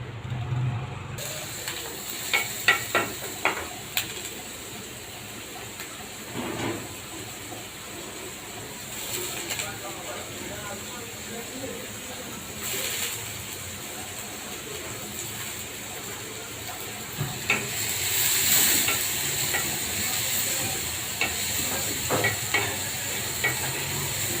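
Chopped onion fries in oil in a pot with a soft, steady sizzle, broken by quiet scrapes and taps from stirring. It is faint and heard without talk.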